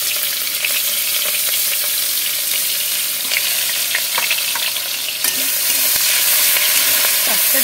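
A bay leaf, onion, green chili, garlic and ginger fry in hot oil in a kadai, giving a loud continuous sizzle broken by occasional scraping stirs with no voices.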